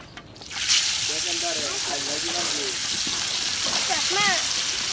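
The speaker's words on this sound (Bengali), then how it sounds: "তেল দিয়েছি এখন আমরা এই মাছগুলোকে এখানে দেব" Catla fish dropped into hot oil in a village kitchen, giving a steady loud sizzle and hiss that starts abruptly and carries on throughout, with faint voices chattering in the background.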